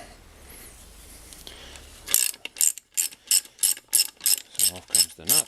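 A ratchet socket wrench undoes a not-overly-tight nut on a Villiers 9E engine from a Pengor Penguin, after a quiet stretch, giving about nine crisp, evenly spaced ratcheting bursts, close and loud.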